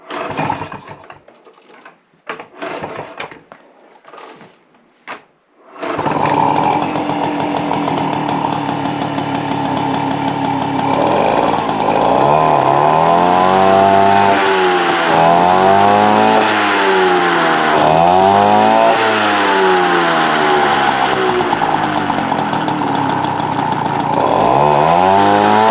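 A Peugeot 103 moped fitted with a lightened clutch kit: a few sputtering start attempts, then the two-stroke engine catches and buzzes loudly close by, revving up and down in repeated quick swells, no voices.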